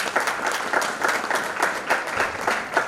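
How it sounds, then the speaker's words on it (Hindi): An audience claps steadily to welcome special guests at a Republic Day celebration session, a moderately loud, even applause with individual claps audible throughout. "जोरदार तालियों से हमारे सभी विशेष अतिथियों का स्वागत करें।"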